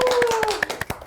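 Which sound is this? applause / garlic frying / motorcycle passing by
applause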